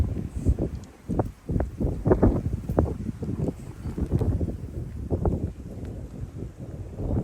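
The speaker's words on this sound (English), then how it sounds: "Still really windy, still gusting up to 40s." Strong, gusting wind buffets the microphone in uneven low rumbling bursts, rising and falling with no pause throughout.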